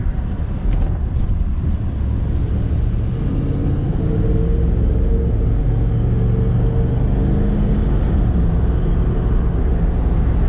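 A 1994 Chevrolet G20 van cruising on the freeway after a new wheel bearing and axle were fitted, heard from inside as a loud, steady rumble of road and wind noise with no pause and no talk.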